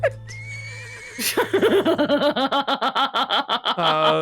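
A horse in the video game Metal Gear Solid 3: Snake Eater lets out a loud, close whinny, a long run of rapid, rhythmic whinnying pulses that rise and fall for several seconds.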